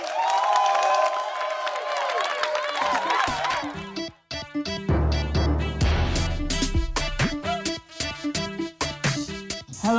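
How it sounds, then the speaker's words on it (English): Audience at a televised talent show cheers and applauds after a performance of a song. Crowd noise and cheering fill the opening seconds, then give way to loud rhythmic music with heavy beats. "Round of applause for Marco and YSB."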